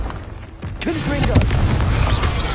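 Confringo fire spell explosions in the Hogwarts Legacy video game: a sharp boom rises near one second, then a sustained loud rumble of blasts and crackling battle effects, with a voice speaking over the action.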